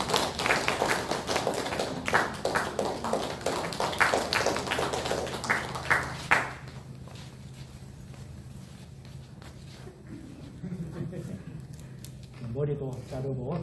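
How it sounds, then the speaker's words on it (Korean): A church congregation at a Sunday service applauds for about six seconds of dense, fairly close clapping, then it fades to quiet room murmur and a little talk. "염지민 박수해 주시길 바랍니다."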